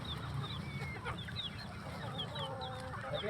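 Free-range village chickens cluck steadily while being fed rice and sweet potato, with many overlapping calls from a flock at close to moderate distance over constant low background noise and no talking.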